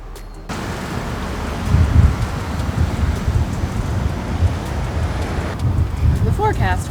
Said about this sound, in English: As you can tell, it's windy in every direction